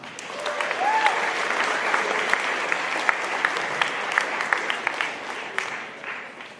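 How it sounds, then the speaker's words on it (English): A room full of people at a youth event claps steadily for several seconds, a dense, even patter of many hands with scattered louder claps. "Give an applause."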